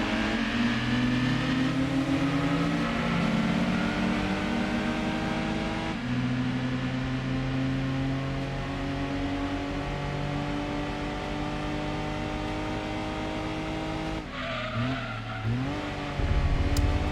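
Small lightweight K-class car engine in Gran Turismo 2 revving steadily at high pitch, holding a sustained drone with slight shifts in tone, dropping abruptly near the end as the car brakes, loud and alone.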